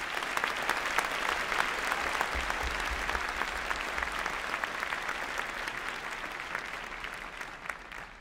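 A large hall audience at an Imperial College postgraduate graduation ceremony gives the graduating chemistry class sustained, even applause, many hands clapping loudly and steadily throughout.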